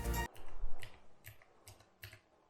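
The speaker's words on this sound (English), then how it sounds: "It even has a mechanical keyboard built in, very clickable." Clicky mechanical keys on the built-in keyboard of a Divoom Ditoo retro-style desk gadget, pressed in a few separate close taps after one louder opening burst, with no talk.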